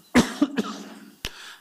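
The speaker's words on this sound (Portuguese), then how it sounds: "me perdoe aqui que um pigarrinho me pegou" Someone speaking at a public hearing on campaign financing clears his throat with a sharp cough, follows it with two smaller throat-clearing bursts, and gives a final short cough after a pause, all close and alone with no speech.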